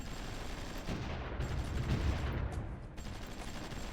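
Bursts of distant, loosely organized gunfire in the SRU strategy game, a steady rumbling crackle of rifle and machine-gun shots rolling on for several seconds with no voices.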